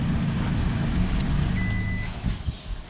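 An Isuzu pickup truck backs into a parking spot with its engine rumbling steadily close by. A thin reversing beep chimes briefly midway.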